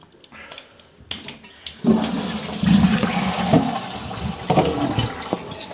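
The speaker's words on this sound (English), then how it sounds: "You can do a small flush first." A newly installed toilet flushes close by, a rushing gush of water that keeps running and gurgling as the bowl refills, with a few clicks at the start.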